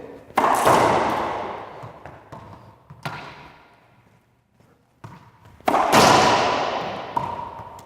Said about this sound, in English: Ball's taking 2 bounces, making a V shot that makes it very difficult for him to come and retrieve the ball